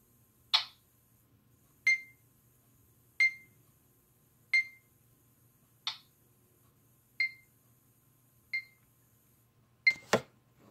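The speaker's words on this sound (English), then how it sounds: "the beeping you hear is my metronome." A steady series of sharp electronic beeps at an even tempo, about one every 1.3 seconds, fairly loud and alone, ending with a quick click.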